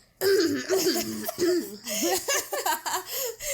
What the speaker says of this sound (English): We have to make a soundbite of you clearing your throat.